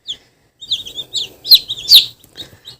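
Young Cochin chicks cheep in short, high peeping bursts, several close calls in quick uneven succession with brief silent gaps, no voices over them.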